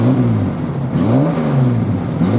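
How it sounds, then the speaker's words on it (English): Ford Zephyr convertible straight six with a straight-through stainless steel exhaust, running and revving close by, a loud steady engine note rising and falling in pitch through two rev cycles. "I'm going to fire up there with the original keys. It's a very, very simple car to start and run. She's a sweet sounding straight six."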